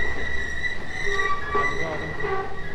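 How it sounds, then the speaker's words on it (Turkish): Istanbul metro train at Acıbadem station, loud and close, with a steady rolling rumble and sustained high-pitched wheel squeal that rises and pulses as the carriages move through the platform. "Acıbadem metrosu istasyonuna geldik."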